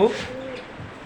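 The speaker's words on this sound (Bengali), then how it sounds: "আরও আছে কবুতর।" Pigeons coo inside a bird shop in Dhaka that also keeps budgerigars, a brief low cooing call rising at the start and then fading into a murmur of room noise and faint background voices.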